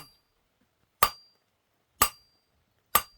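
Three sharp metallic hammer blows ring out on an anvil at roughly one-second intervals while a candle holder is being forged, each strike bright and clinking with a short ringing decay, close and isolated in silence.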